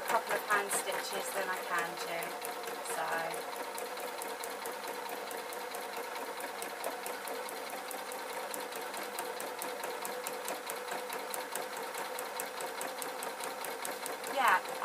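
A sewing machine stitches a tailored waistcoat, a continuous close rapid rattle and hum of the needle running steadily for many seconds, with faint talk underneath.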